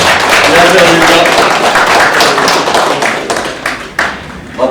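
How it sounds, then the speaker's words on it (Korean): Applause from a press conference audience welcoming a Saenuri Party National Assembly candidate in Mapo, a burst of many hands clapping at close range that fades away, with a voice starting at the end. "많은 박수로 좀 환영해 주시기 바랍니다."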